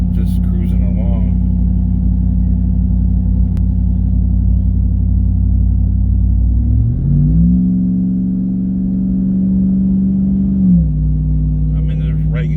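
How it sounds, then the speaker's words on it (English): Low, steady exhaust rumble from a RAM TRX truck with a QTP exhaust cutout, cruising in 8th gear. The drone holds level, shifts pitch briefly midway and then settles back, loud and close. "I mean, this is 8th gear, just cruising along."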